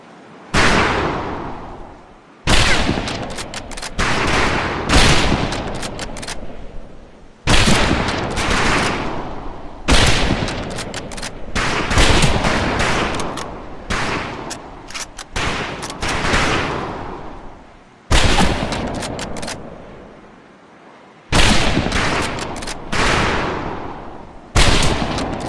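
Rifle volleys on an outdoor shooting range, many shooters firing at once in dense, loud bursts of overlapping cracks with brief pauses between strings, close and echoing, no talk.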